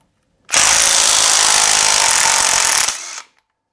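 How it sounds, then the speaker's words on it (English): A rattle gun hammers at the sprocket bolt of a Royal Enfield Classic 350 Reborn motorcycle, one loud, close burst of about two and a half seconds with a short tail as it winds down, no talking. "I'm trying to use my rattle gun to get the sprocket bolt off"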